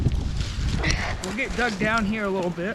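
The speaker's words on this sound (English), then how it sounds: "It's windy today, probably at least 10-15 mile-an-hour winds." Wind outdoors at about 10-15 mph, buffeting the microphone as a steady low rumble and gusty roar that runs beneath someone speaking throughout.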